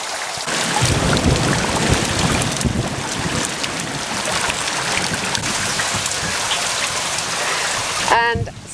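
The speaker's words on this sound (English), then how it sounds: "And suddenly it's raining." Steady, dense rain pours onto a forest river during a fishing outing, a loud continuous hiss with wind buffeting the microphone, and a voice briefly speaks near the end.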